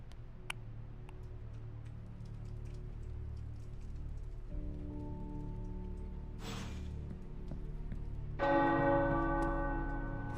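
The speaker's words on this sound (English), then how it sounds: "The tower bells are ringing." Tower bells in Marvel's Midnight Suns ring out, a rich pealing cluster that swells in near the end over a steady low game ambience, with scattered ticks and a brief noisy burst before it.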